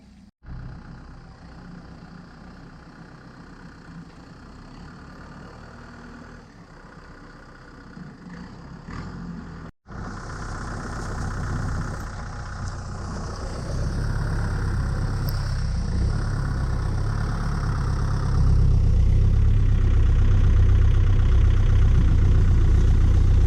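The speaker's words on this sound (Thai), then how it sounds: "เดี๋ยวรถไถดัน อินทรีย์วัตถุพวกนี้เข้ามา ดันเข้ามา แล้วก็ตีตีตีค่อยๆ ตีผสมกับดิน" A tractor engine idles, then grows louder and heavier as it pushes and tills organic matter into soil, its low, rumbling drone building steadily toward the end.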